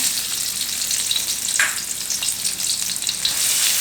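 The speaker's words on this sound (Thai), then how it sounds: "ใส่เครื่องผัดที่เราโขกไว้นะคะ" Loud, bright sizzling and crackling of pounded garlic paste stir-frying in hot oil in a wok, with occasional stirring scrapes, continuous and close, no one speaking.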